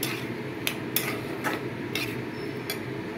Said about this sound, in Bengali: সিদ্ধ করে রাখা মোচাটাও দিয়ে এইভাবে সমস্তটা মিশিয়ে নিতে হবে